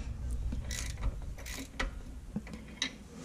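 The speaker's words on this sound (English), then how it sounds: "take you a 5/8 wrench and torque these babies down" A 5/8 wrench tightening anti-roll bar bolts on an 82-92 Camaro/Firebird, giving soft metallic ratcheting clicks and creaks over a steady low hum, close up and without speech.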